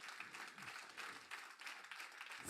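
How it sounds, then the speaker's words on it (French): An audience applauds the chefs at the close of a culinary event, a fairly faint, steady wash of clapping with no clear individual claps standing out. "On va les applaudir bien fort."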